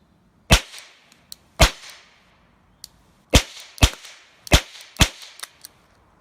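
Charter Arms Pathfinder .22 revolver firing CB Long rounds, heard as six sharp, fairly quiet cracks spaced about a second apart with brief ringing tails, close to the listener and with no talking.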